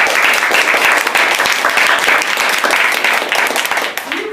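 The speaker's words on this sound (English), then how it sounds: "Can everybody give him a round of applause?" Audience applause following a request for a round of applause at an evaluation session, dense steady clapping from a crowd that holds throughout and eases slightly at the very end.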